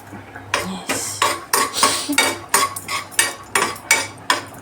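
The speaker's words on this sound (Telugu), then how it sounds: "ఇట్లా బ్రౌన్ కలర్ వచ్చేంత వరకు వేపుకోవాలి." Food fries in ghee in a pan while a spatula scrapes and clacks against the metal in about a dozen quick, rhythmic strokes, loud and close.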